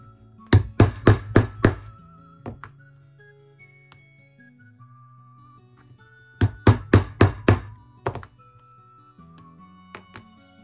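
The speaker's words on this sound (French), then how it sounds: "Cette griffe de couture est très pratique pour le perçage des trous pour la couture à la main" A two-prong leather stitching chisel struck with a mallet to pierce stitching holes, two quick bursts of five or six sharp, close taps each, with scattered single knocks between them.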